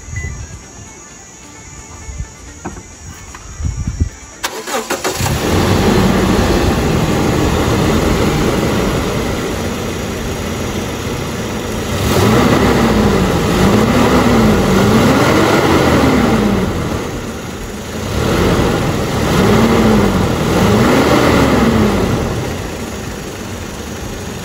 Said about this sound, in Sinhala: මේ vehicle එකේ එන්ජින් එක ස්ටාර්ට් කරලා බලමු මේකේ එන්ජින් සවුන්ඩ් එක මොන